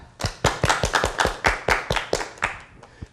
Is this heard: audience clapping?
yes